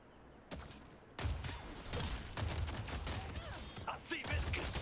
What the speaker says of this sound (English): I love the sound of the gun now